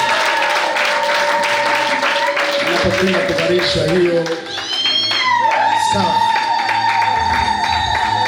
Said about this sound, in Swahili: Jamani, makofi na vigelegele sasa.